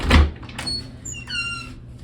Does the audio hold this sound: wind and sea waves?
no